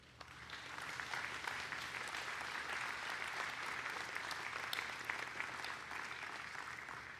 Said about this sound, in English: Turning and applauding our loved ones, as we could not thank you enough.